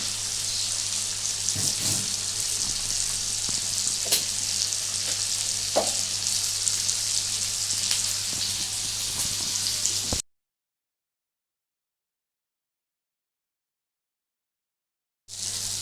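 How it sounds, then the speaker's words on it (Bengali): Beans frying in butter in a pan, a loud, steady close-up sizzle that runs for about ten seconds, cuts to silence, then briefly resumes. "এর মধ্যে বিনসগুলো হালকা করে ফ্রাই হবে"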